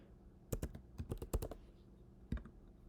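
A password is typed on a computer keyboard in a quick burst of close, crisp key clicks, then one last isolated keystroke after a short pause.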